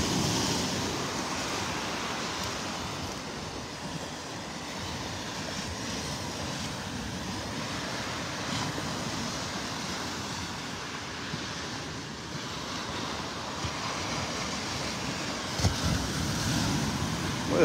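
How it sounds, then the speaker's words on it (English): Ocean waves breaking hard beside the Naples Pier at sunset, a steady broad surf wash with continuous wind rumble across the microphone and an occasional heavier crash near the end. "Boy, those waves are really breaking hard here."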